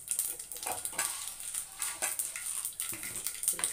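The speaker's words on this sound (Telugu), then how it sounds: "కడాయిలో నూనె పోసుకొని ఆవాలు జీలకర్ర వేసుకోవాలి టమాటా పచ్చడికి తాలింపు పెట్టడానికి" Mustard seeds and cumin crackle and sizzle in hot oil in a kadai as a tempering for tomato chutney. The soft, continuous hiss carries scattered pops and occasional light stirring scrapes, heard close but fairly faint.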